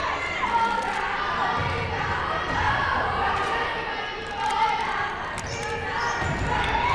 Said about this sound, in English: Large applause here as Atkinson, Cooper, and Banks all head to